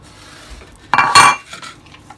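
Ground chicken is moved from a blender into a bowl, and metal utensils clink and scrape against the dishes in a short loud burst midway through, followed by lighter taps.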